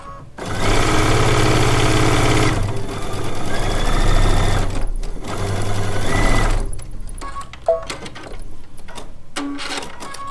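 A sewing machine fitted with a quarter-inch piecing foot and edge guide stitches fabric in loud bursts of rapid mechanical whirring, stopping between runs, followed by quieter clicks and handling.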